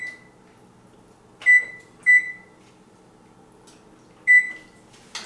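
An oven's control panel beeps three times as the temperature is set to 400 degrees, each beep short and clear against a quiet kitchen hum.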